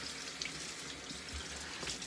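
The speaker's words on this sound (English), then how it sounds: "So as you hear the water, I'm waiting for the water to get hot." Tap water runs steadily into a bathroom sink while the water warms, a continuous broadband hiss and splash with faint drips. It is close and even throughout, with no talking.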